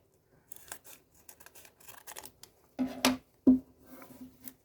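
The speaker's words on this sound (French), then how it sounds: "Comme d'habitude, avec la petite paire de ciseaux." Several sharp scissor snips cut through a McDonald's Pokémon 25th anniversary card pack, with light rustling and crinkling between the cuts, close and fairly quiet.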